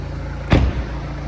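A short mechanical clunk from the bonnet release lever inside a BMW 220d M Sport, a single brief pull heard close up in a quiet cabin with a faint low hum beneath.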